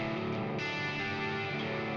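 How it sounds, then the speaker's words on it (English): Electric guitar notes wash together under a thick, shimmering delay from a Keeley Halo pedal, echoes smearing and swirling into a sustained haze. "It's my favorite delay, guys. If you want a delay that sounds like this,"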